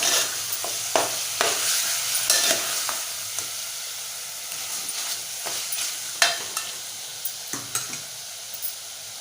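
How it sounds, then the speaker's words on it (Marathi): Spicy chicken is stirred and fried in a pan, with a loud steady sizzle under repeated sharp scrapes and knocks of a spatula against the pan. "आपण आता झाकण उघडूया एकदा परतून घेऊया"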